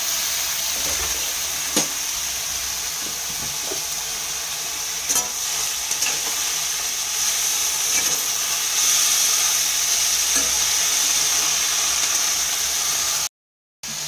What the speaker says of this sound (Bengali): এটা থোর ভাজা হচ্ছে